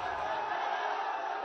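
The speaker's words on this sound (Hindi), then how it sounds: "ऐसा ही जनसैलाब प्रयागराज में भी देखने को मिला" A large political rally crowd in Prayagraj for Rahul Gandhi and Akhilesh Yadav roars in a dense, steady wall of distant voices and shouting.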